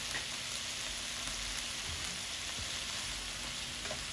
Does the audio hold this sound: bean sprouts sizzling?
yes